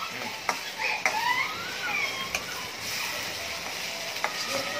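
Tomatoes with turmeric and salt cook in a pan, giving a soft, steady sizzle with occasional scrapes and taps from stirring, close by and moderately quiet.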